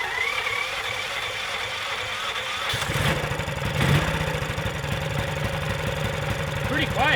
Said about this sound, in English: kind of a noisy engine, isn't it?